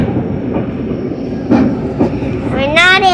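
Inside a SunRail commuter train in Florida, a low rolling rumble carries on with faint rail clatter while passengers chat nearby.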